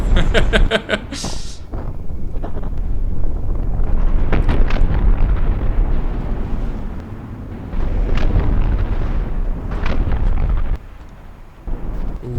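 A rolling barrage of explosions in a naval warfare video game, heavy booms and rumbling blasts following one another in quick succession, loud and near, with brief quieter gaps between bursts.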